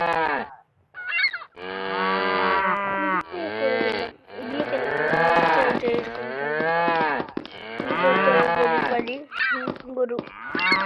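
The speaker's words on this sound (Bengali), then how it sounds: "গরু" Cattle in the block-building game Mini Block Craft 3D give a run of long, loud, drawn-out moos with brief gaps between them, close and clear with nothing else underneath.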